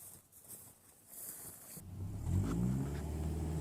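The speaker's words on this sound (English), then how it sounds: "my little red truck proved to be very useful, dragging the logs out to the road" Little red truck dragging logs out to the road: a quiet rustle gives way to a low engine rumble that grows louder and revs, close and steady, with no talking.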